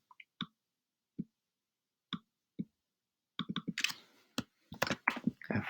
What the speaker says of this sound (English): we're going to type the same gene versions here for offspring C.